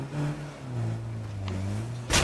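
A car driving in State of Decay 2, with a steady engine drone that slides down and levels off, then a short sharp knock or clunk right at the end.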